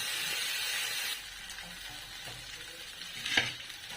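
Banana roti fries in a pan, a soft, fairly quiet hiss of oil with a brighter burst of sizzle near the end and a faint scrape or two.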